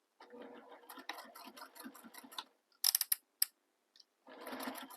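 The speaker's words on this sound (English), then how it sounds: "I'm going to sew that opening closed all the way across" A sewing machine stitches a crossbody bag opening closed, running in short bursts with brief pauses between, fairly close and at moderate loudness, with no one talking.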